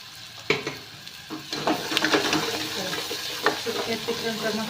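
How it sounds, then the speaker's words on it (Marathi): Dry-style chicken masala with onion fries in a pan, a soft sizzle under repeated clattering scrapes of a spoon stirring, the strokes loudest in the middle and no one speaking. "सुक्या चिकनचा मसाला छान असा भाजला आहे मस्त."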